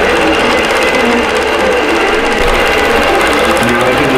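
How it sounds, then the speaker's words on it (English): A sewing machine stitching a winter wonderland tree skirt runs loud and steady, with a continuous close whirring drone that hums on evenly throughout with no talking. "Now I can just let this sew for a few minutes."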